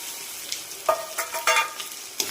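Gongura egg curry being stirred in a frying pan, a soft continuous sizzle broken by several scraping strokes of a spoon against the pan, close up and without talk.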